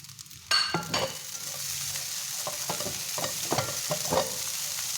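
Spring onion stirred into rice frying in a pan, a steady close sizzle with repeated scraping strokes of the spoon after a sudden hiss as it goes in.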